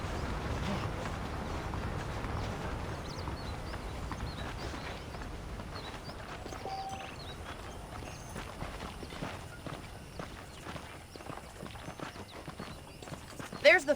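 Horse hooves clip-clop at a steady walking pace through a Red Dead Redemption game soundscape, with faint ambient sounds and some distant chatter.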